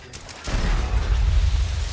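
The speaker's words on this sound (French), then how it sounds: "C'est quoi ces explosions?" A sudden blast erupts into a sustained, booming rumble of video game explosions, loud and heavy, continuing for a couple of seconds.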